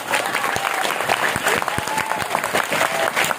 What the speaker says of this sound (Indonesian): Ya, tepuk tangan buat kita semua.